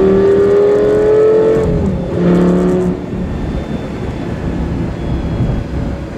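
Brand new engine of a Lamborghini Gallardo revving loudly and close, a strong harmonic roar that rises, dips into a second rev and then settles into a lower, rumbling idle, with no voices.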